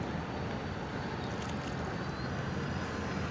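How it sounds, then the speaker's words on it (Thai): Passenger boat passing on the Chao Phraya river, a steady broadband engine and water rush with wind noise, continuous and fairly loud throughout. "คือเรือโดยสารนะครับผ่านไปแล้ว"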